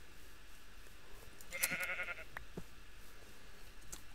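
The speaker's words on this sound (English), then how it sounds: "At least I'm finding all my sheep again." A single synthetic Minecraft sheep bleat rings out briefly in the middle, wavering and clear above a low ambient hum, with faint clicks around it.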